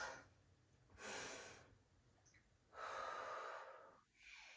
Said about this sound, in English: let's start with a nice deep inhale